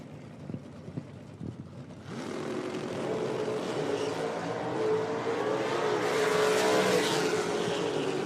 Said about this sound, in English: 111 miles an hour for the old Camaro down there